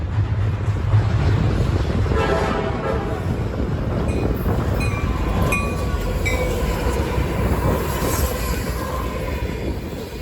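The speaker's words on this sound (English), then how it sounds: "B454, loaded sand for Fairmont, West Virginia, came into view with the rebuilt SD70 Mac in the lead." A heavy CSX freight train loaded with sand, led by a rebuilt SD70 Mac locomotive, rolls past with a steady low rumble, wheels clattering and occasional metallic squeals rising over the continuous roar.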